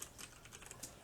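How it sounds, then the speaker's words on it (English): Quick, light keystrokes on a computer keyboard, a short run of soft clicks at close range with no voices. "And we're going to begin typing different bulletin points."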